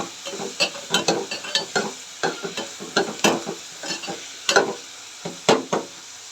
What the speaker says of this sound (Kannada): ಹೀಗೆ ಫ್ರೈ ಆಗೋವರೆಗೂ ಕೈ ಆಡಿಸ್ತಾನೇ ಇರಬೇಕು ಇದನ್ನು